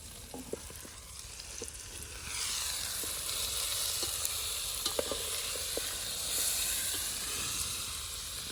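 Desi maize kernels frying in a hot pan, a steady loud sizzle that swells after the first couple of seconds, with occasional light clicks and stirring knocks throughout.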